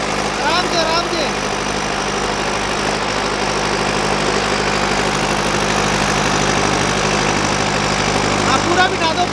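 A Mahindra 585 DI XP Plus tractor engine runs steadily at a low idle-like rumble throughout, with people talking over it in the background.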